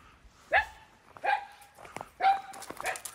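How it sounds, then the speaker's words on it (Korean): A dog at a dog training school barking in three separate sharp, whiny barks with short pauses between them, fairly close over a quiet background. "너는 왜 거기서 하루 종일 짖고 있니?"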